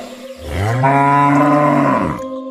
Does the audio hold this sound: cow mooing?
yes